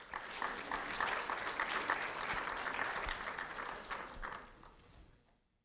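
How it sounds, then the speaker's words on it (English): An audience applauds a fifth-grade student at an award event, a full round of clapping that holds steady for several seconds and then tapers off into silence. "a round of applause for Jordan Fraser"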